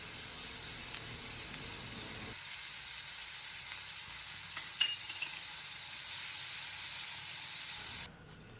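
Tomatoes and onions sautéing in a pan for Tamil tomato chutney, a steady soft sizzle and hiss with faint stirring scrapes, fairly quiet and continuous, no talking.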